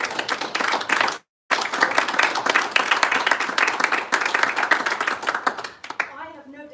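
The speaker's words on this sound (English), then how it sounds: "Can I ask you to just whoop and cheer and go crazy for this incredible panel?" An audience at a Coventry and Warwickshire panel event claps enthusiastically for the panel, dense close applause that breaks off briefly and then resumes, fading out at the end.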